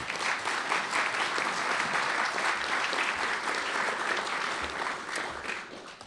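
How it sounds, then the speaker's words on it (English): Sustained audience applause fills a National Press Club event hall, dense and steady from start to finish, fading slightly near the end. "Let's give them a round of applause"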